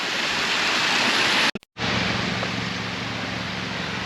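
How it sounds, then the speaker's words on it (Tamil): A waterfall in a Swiss village in Reichenburg roars as steady, loud broadband rushing water, broken by a brief dropout partway through, then continuing unchanged to the end. "அந்த தண்ணி அப்படியே அருவி வருதை நோக்கி நடந்து போவோம்"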